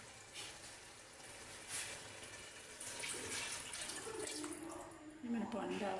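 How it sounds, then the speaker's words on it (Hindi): Water is poured into a pan of chicken korma, a continuous splashing rush close by that swells toward the end and turns to sizzling as it hits the hot curry. "साथ ही मैं डाल रही हूँ पानी।"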